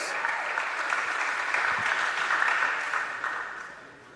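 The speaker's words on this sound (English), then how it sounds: "a round of applause for our graduating women's volleyball players" A crowd at a college women's volleyball match claps for graduating players, a sustained burst of applause that swells and then fades out near the end.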